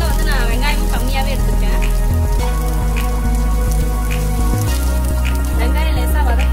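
Loud, steady sizzling of chopped onions frying in a hot pan, close up, with a continuous crackling hiss throughout.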